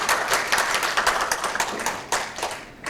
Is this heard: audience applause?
yes